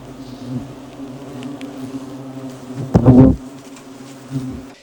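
Asian hornets buzz around their nest as a steady close insect drone, swelling briefly louder for a moment near the end, with no talking.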